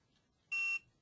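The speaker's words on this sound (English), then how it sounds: "it made the nice beeping noise" A single short electronic beep from QGIS software on a computer, a clean steady tone lasting about a quarter second, clear against near silence.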